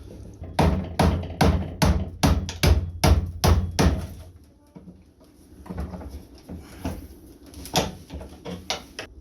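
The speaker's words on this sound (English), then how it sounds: "And then I'm just tapping it with a hammer." A hammer taps a nut threaded onto a bolt during sailboat hardware removal, about ten sharp, evenly spaced close knocks, followed by a quieter stretch of lighter clicks and handling noise.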